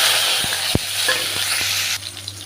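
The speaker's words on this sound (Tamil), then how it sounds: "ஒரு பத்து பல் பூண்டு வந்து தட்டி வச்சுருக்கேங்க அதையும் சேர்த்துக்கிறேன்" Crushed garlic and shallots frying in hot oil in a pan, a steady loud close sizzle with a few sharp stirring clinks and taps that settles slightly quieter near the end, with no talking.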